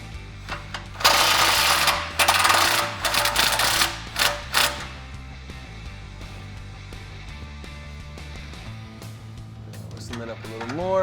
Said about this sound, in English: I'm going to take an impact with a 15mm socket. We're going to get up in there and loosen up that clamp.